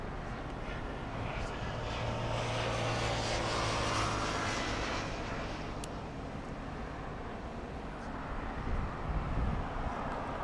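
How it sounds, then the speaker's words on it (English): An airplane flying near LAX on approach toward runway 25 left, a broad, steady engine roar from a distance that swells slightly and then eases, heard alone without talk. "So it looks like it's going to fly downwind for the north side, but I'm expecting it to fly an extended dogleg, join the final approach for 25 left."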